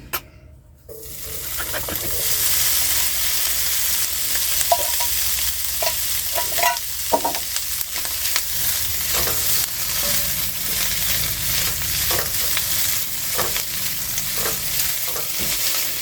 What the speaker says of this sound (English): Because the mushrooms retain so much liquid, the mushrooms are going to deglaze this pan.